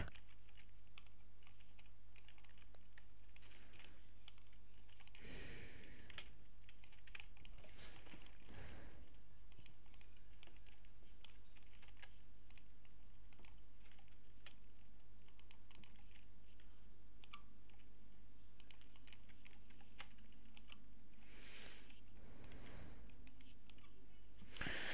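Someone types on a computer keyboard that may be from Rossmann, producing a steady patter of key clicks throughout with a few heavier thumps, all close and fairly quiet.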